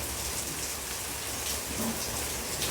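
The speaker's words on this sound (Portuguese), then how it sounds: "então vai ficar um pouquinho, né, com o som de chuva." Steady rain falling on garden plants during a December downpour, a continuous close hiss of drops on leaves without any voices.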